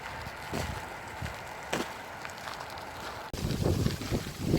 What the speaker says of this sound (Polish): Niezły wiatr się zrobił. Nie wiem, czy będzie dobrze słychać, bo nie mam żadnej osłonki na mikrofon.